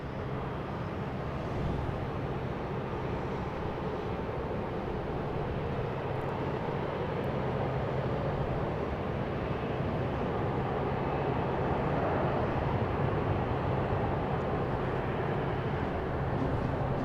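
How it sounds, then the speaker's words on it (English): An Etihad Boeing 787 Dreamliner at Boston Logan airport produces a constant, even jet roar, a dense wash of rumble that holds steady throughout without breaks or voices. "It is Etihad heading to Abu Dhabi. It's a 787 Dreamliner."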